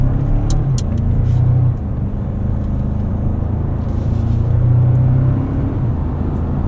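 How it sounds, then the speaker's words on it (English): A 2024 Toyota Tacoma Limited i-FORCE Max with an 8-speed automatic drives along, its engine a steady loud low hum and rumble from inside the cab that dips slightly as it shifts, then rises again. "This 8-speed auto really does good work. Knows right when to shift, when to hold gears."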